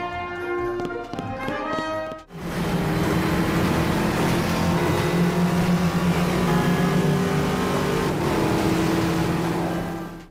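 Car engine roaring steadily in the Midnight Club 3 racing game on PSP, a loud continuous drone that starts abruptly after a brief musical intro and holds through to the end.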